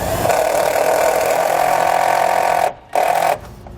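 A power drill whines steadily while driving self-tapping screws into the mounting plate of a Firestone Air Command standard duty air compressor. It runs loud and close, cuts out briefly, then buzzes again for a short burst.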